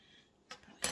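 A spoon set down on a counter while making quick French bread pizza: a soft tap, then a sharper, louder metallic clink near the end, close by with no talking.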